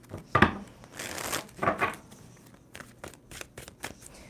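Tarot cards shuffled by hand in a series of crisp riffling bursts and softer flicks, close and fairly quiet, with no talking.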